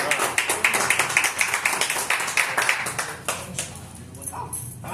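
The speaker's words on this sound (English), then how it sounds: "Give them a round of applause." A small group applauding at a restaurant happy hour, quick rhythmic close clapping that thins out toward the end, with murmuring voices underneath.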